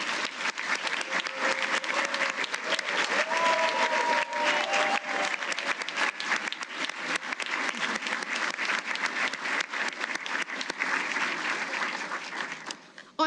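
Audience at the 55th annual DLA employee awards ceremony giving award winners a long round of applause, a dense sustained clapping in a large room with a few voices faintly underneath, tapering near the end.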